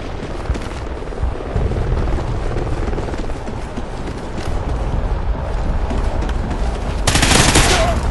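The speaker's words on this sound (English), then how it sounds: "Helo scout on the way." A scout helicopter arrives in the Call of Duty Ghosts multiplayer match on the Warhawk map, loud rotor thumping over scattered gunfire, swelling sharply near the end.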